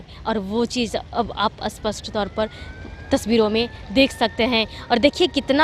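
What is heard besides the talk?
siren signalling Ganga Vilas river cruise departure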